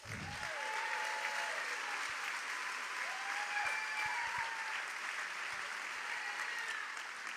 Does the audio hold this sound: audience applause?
yes